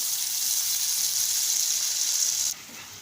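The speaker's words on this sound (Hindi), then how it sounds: "मैं मीडियम फ्लेम पे इसको थोड़ा फ्राई करूँगी" A ground tomato masala paste fries over a medium flame, giving a steady close sizzling hiss that drops abruptly to a quieter simmer near the end.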